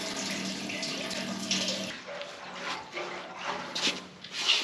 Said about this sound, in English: We're going to put a little diesel in here, slosh it around, and drain it out.